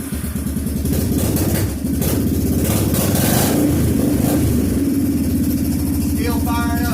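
A Kawasaki Bayou 300 ATV, a barn find revived after ten years, runs on a test ride with a steady, loud engine drone that rises slightly as it pulls away, with brief talk near the end.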